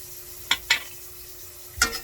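Onions and garlic being sautéed in a pan, with three short sizzling stirs of a utensil against the pan over a quiet background hum.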